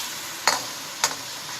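Vegetables stir-fried lightly for healthy chicken fried rice with eggs, kept crisp: two brief scraping stirs about half a second apart over a faint, steady background hiss, fairly quiet overall.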